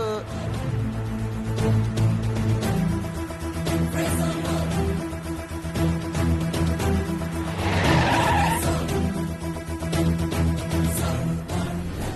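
A car skids to a halt, its tires screeching loudly and continuously against the road surface with engine noise underneath, sustained for several seconds.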